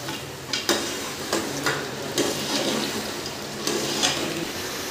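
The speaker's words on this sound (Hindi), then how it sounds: "अब हम इसको अच्छी तरह भून लेंगे।" Goat meat, already simmered until tender, fries and is stirred in a pan, giving a steady close sizzle broken by scraping stirs at irregular intervals.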